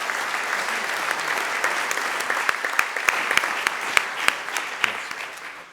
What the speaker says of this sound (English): And let's give our electeds one more round of applause.